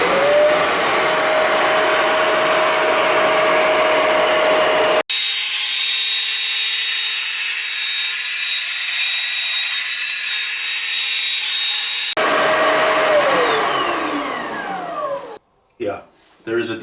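A Bissell ProHeat 2X Revolution Pet Pro carpet cleaner runs dry suction passes, its loud, steady motor drone shifting pitch as it changes mode, then cutting out and stopping near the end.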